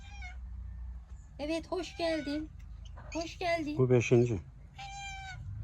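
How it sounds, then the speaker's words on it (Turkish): A cat meows repeatedly at the door of a village house, several short cries mixed with a voice talking gently to it over a low background hum. "Bu kedi yeni bak. Her zaman gelmiyor."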